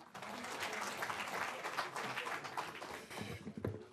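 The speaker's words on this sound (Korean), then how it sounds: "큰 박수로 맞아주시기 바랍니다" A room of party members at a Democratic Party floor leader election applauds the newly elected leader, steady moderate clapping from a crowd at some distance, with murmured voices mixed in.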